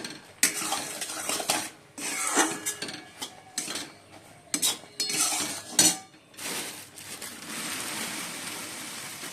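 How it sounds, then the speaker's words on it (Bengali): A spoon stirs puffed rice (khoi) in a metal pan, giving close, irregular clinks and scrapes, some sharp metallic knocks, and a steadier rustling scrape toward the end. "অল্প অল্প করে খই দিয়ে দিচ্ছি, এবার নাড়াবো"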